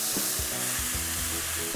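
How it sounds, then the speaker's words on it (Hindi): Onions fry in hot oil with garlic and ginger in a pan for a jackfruit curry, giving a steady, close sizzle with a few soft stirring knocks and no voices. "अब जी प्याज की भुनाई होनी है"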